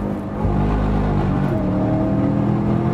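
A sports car with short gear ratios accelerates across the line onto a flying lap, its engine a loud, steady, rising drone heard from inside the car, with no talk over it.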